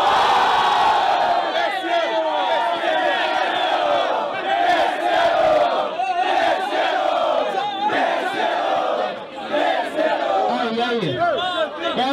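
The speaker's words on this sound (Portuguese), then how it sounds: "Barulho quem achou melhor, Orochi" A rap battle crowd roars, cheers and shouts continuously and loudly for a contestant, with whoops and chanting voices blended into a dense, sustained wall of noise.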